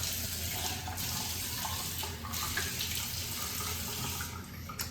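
Running tap water splashes as a face is rinsed over a sink, a close, continuous rushing flow with slight shifts in the splashing and no speech.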